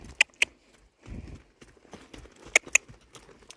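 A horse cantering in a riding arena, hooves striking in sharp paired clip-clops near the start and again near the end, with quiet gaps and a soft low thud between.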